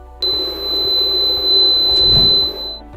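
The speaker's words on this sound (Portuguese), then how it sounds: "o equipamento interrompe a dose automaticamente e um alarme soará para informar que a aplicação terminou" An ultrasound treatment device sounds its end-of-treatment alarm: a single sustained high-pitched electronic tone that starts abruptly and holds steadily for over two seconds, loud and close, over faint background rumble.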